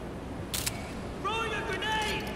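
Camera shutter snapping a photo in Far Cry 4, a short bright click burst near the start followed by a voice speaking over steady game ambience.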